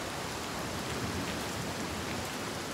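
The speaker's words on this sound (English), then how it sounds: "The rain never stops." Steady rain pours in the video game Hellblade 2: Senua's Saga, a dense even hiss of drops on surfaces, with no break.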